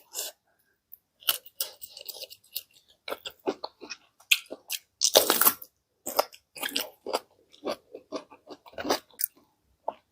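Spicy raw oyster and fresh shrimp salad eaten with young lead tree shoots, heard as close, irregular crunching bites and wet chewing in quick bursts with short pauses between.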